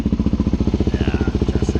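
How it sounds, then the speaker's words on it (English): Suzuki DR-Z400S single-cylinder motorcycle engine fitted with an FCR39 carburetor, running at slightly raised throttle, a close, loud, evenly pulsing thump of rapid firing strokes with no talk. "So we'll fire it up real quick. Little higher throttle."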